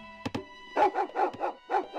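A dog barks in the Rise of Nations real-time strategy game: two quick yips, then a steady run of five or six rhythmic barks over a faint musical hum.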